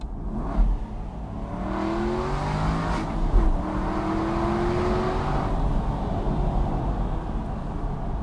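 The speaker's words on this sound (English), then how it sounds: "You simply cannot beat the sound of a naturally aspirated V8" A naturally aspirated Aston Martin Vantage V8 4.3 revs through its gears, the engine note rising in pitch, dropping at shifts and climbing again, heard close and loud from inside the car.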